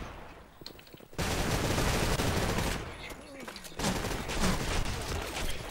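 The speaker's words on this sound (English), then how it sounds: "There's a guy shooting," Blackshot online shooter gunfire, loud sustained bursts of rapid automatic fire that stop briefly before a second long volley. Faint voices sit under the shooting.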